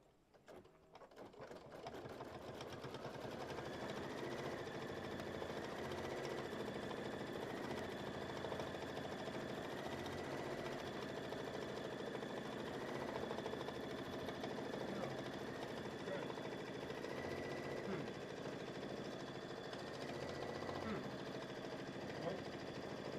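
An embroidery machine stitches a white snowflake outline, making a steady, even mechanical whirring hum that runs unbroken after a brief start and stays at a constant level throughout.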